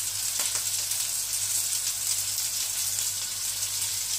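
Onions and chopped garlic fry in a pan for mushroom fried rice, giving a steady bright sizzle that holds evenly throughout with no talking.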